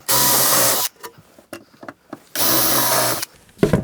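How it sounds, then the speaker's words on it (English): A power drill drilling into wooden model railroad baseboard whirs loudly twice, each burst under a second, separated by quieter clicks and handling noises. "So now I know if I drill here, I'm going to be dead center."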